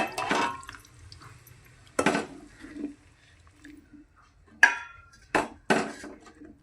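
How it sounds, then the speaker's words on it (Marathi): Spiced water is poured in several short splashing bursts into fried masala in a cooking pan, each pour sounding close and separated by quiet gaps. "आता याच्यात पाणी टाकीते मी. हे मसाल्याचं पाणी आहे हे टाकून देते."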